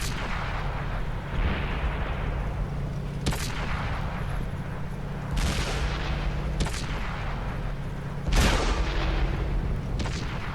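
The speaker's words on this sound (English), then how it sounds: "from this angle I can go straight through his front plate with this gun." Several heavy booming shots from a KV-2 tank's howitzer in World of Tanks, each a sharp blast with a long rumbling decay, spaced a couple of seconds apart over a constant engine drone.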